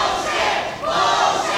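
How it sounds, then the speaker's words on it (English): A wrestling crowd shouts and roars together in a short, dense burst, a loud sustained wall of voices from a live event. "The crowd."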